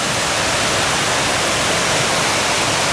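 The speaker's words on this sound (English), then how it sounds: "nice big waterfall" A waterfall swollen by rain roars steadily and loudly, a dense unbroken rush of water filling the whole clip with no other sounds.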